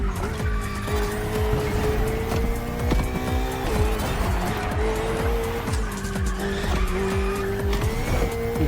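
A car in The Crew Motorfest racing game revs hard and skids through turns, with repeated tire squeals and shifting engine pitch over a steady, loud driving drone and no talking.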